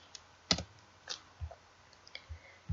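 Typing on a computer keyboard, a few sparse, close key clicks and taps spaced irregularly over a couple of seconds in a quiet room.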